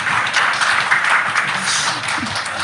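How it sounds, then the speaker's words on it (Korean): Applause during a Korean panel talk show gathering, a steady wash of clapping from a small audience lasting the whole short stretch at moderate level, with no clear speech over it. "박수"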